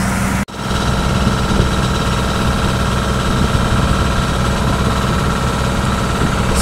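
A boat engine idles loudly and close by with a steady, vibrating drone, broken only by a short dropout near the start.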